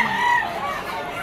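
A white-legged stag rooster at a pet market crows or clucks in a short, loud burst, with busy market noise in the background.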